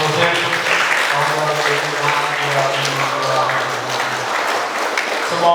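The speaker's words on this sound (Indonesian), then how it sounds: "Tepuk tangan untuk pengurus musim tahun" Applause from an audience at a school ceremony installing a new student council, a steady clapping texture heard close with a sustained tone and voices underneath.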